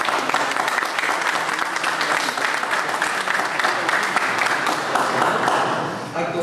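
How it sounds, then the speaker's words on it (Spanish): Sustained audience applause at a formal lecture on contract resolution, dense, even clapping from a crowd that holds steady for several seconds and tapers slightly at the end, with no talking. "Entonces, reiteramos nuestro aplauso al doctor."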